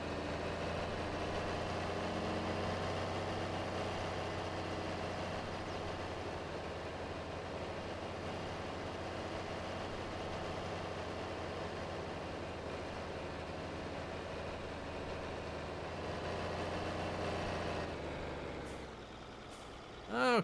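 A tractor engine in Farming Simulator 22 idles with a steady low drone for a long stretch, then the sound drops as the tractor brakes near the end, followed by a sharp burst.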